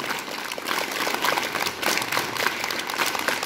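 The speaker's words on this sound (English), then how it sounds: "You are clapping for your benefit" A group of students clapping together in a classroom, a dense, steady patter of many hands at moderate volume without any voices, with no clear beat standing out.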